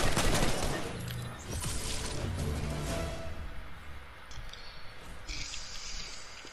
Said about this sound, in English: I hear more shots, kinda